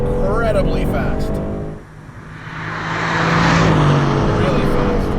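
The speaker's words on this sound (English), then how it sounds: "You've got the 500 horsepower, 4-liter twin-turbo AMG V8 with those turbos down in the V for better response." A 2019 Aston Martin Vantage with a 500-horsepower 4-liter twin-turbo AMG V8 sounds loud and close. Its engine note eases off into a brief lull, then swells again as it pulls hard.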